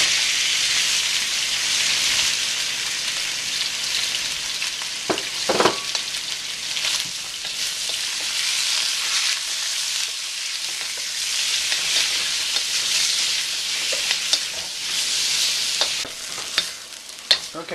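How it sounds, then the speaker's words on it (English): Trimmed ribeye steak browns in a pan with a little oil, sizzling loudly and steadily while a utensil stirs and scrapes through it now and then. "first I'm going to brown my meat"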